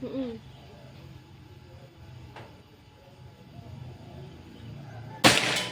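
A single sharp, snappy shot near the end, sudden and loud, following several seconds of quiet outdoor ambience with faint background murmur.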